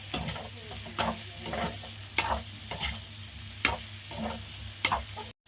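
Potatoes frying in oil with chicken powder, a soft sizzle broken by regular scraping stir strokes about once a second, close and quiet with no talk.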